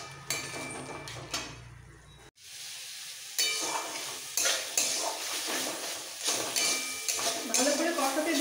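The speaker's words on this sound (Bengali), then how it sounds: "এইবার এই পালং শাকের রসে মশলাটা খুব ভালো করে কষিয়ে নেবো" Spices cooked down in spinach juice in a pan for green rice, with a soft sizzle and repeated scraping, clinking stirs against the metal, steady and close after a short quiet gap.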